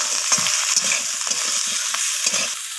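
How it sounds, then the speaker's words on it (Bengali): Vegetables with eggplant in a pan being turned with a spoon, giving a steady sizzle and frying hiss broken by soft, irregular scraping strokes. "দিয়ে আমি আবারও নাড়াচাড়া করে নিচ্ছি"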